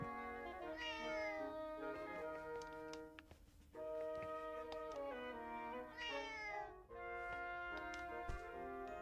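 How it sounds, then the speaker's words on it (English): Cat meowing in Zelda: Echoes of Wisdom, several drawn-out, wavering meows in sequence with short pauses, close and clear over a steady game music bed. "We have a cat?"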